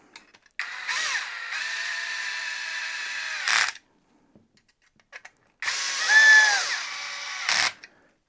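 A power drill or screwdriver with a bit, run in two bursts of about three seconds each with a pause between them, whirring at a steady pitch that winds up and winds down, close and loud with no talk.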